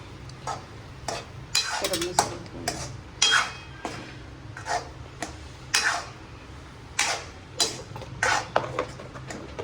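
A potato vada mixture is stirred and mixed in a metal pot, with repeated scraping and clinking strokes in an uneven rhythm, close and moderately loud, with faint voices now and then.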